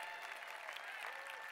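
Audience applause at a speaking event, a steady wash of clapping from many hands, fairly faint and distant, lasting about a second and a half without pause.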